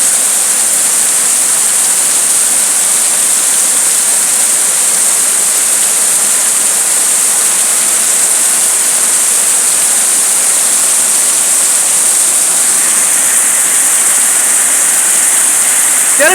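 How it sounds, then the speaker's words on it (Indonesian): Heavy midday rain pours steadily in Yogyakarta, a dense continuous hiss like a downpour, loud and unbroken throughout with no voices. "Cukup tinggi hujan siang kali ini."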